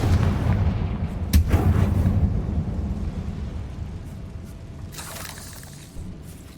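The Confringo fire spell from the Hogwarts Legacy game erupts in a loud, booming blast, with sharp cracking impacts early on and a rumbling roar that slowly fades away.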